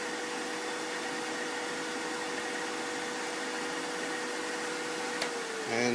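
A wood lathe runs continuously with a steady, even whirring hum while an acrylic pen is polished on it, holding at a moderate level throughout, with a brief thump near the end.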